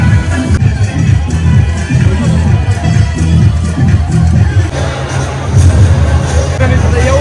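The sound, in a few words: crowd noise at a VIP wedding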